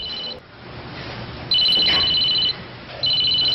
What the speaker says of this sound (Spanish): dejó su celular y está sonando.